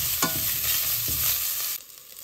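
A spoon stirs sautéed chole with freshly chopped coriander in a pan, giving a couple of scraping strokes over a soft sizzle before the sound drops away.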